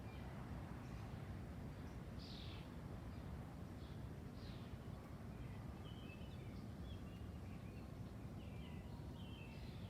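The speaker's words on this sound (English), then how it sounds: "Listen to the sounds of the city. You can hear my birds." Scattered high chirps from wild birds come and go outdoors in a city, faint against a steady background rumble of distant traffic.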